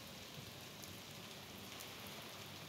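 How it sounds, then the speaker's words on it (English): Steady rain falls in a video game, a faint, even hiss of drops with no change in intensity and no voices over it. "Wow, the rain still hasn't let up yet."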